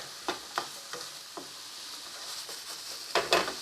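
Onion and lardons fry in olive oil in a pan with a steady soft sizzle, punctuated by several sharp, close utensil scrapes and stirring taps at irregular intervals, no talking.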